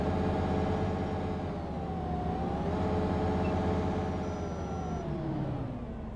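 Diesel city bus engine revving in the OMSI 2 bus simulator game, heard from the rear seats on a Ruhr metropolitan route; a steady, loud, droning roar whose pitch rises and sweeps with the throttle, with no talking.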